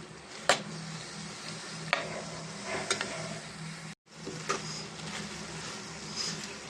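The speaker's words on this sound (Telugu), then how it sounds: "ఇది కొంచెం పచ్చివాసన పోయేదాకా ఫ్రై చేద్దామండి" Ginger frying in a pan with a steady low sizzle, marked by a few sharp clinks and scrapes of a spoon stirring, briefly cut out mid-way, with no one talking.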